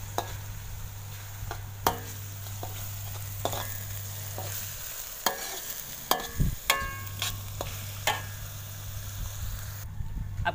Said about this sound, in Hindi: प्याज को मैं थोड़ी ब्राउन होने तक तलूंगा।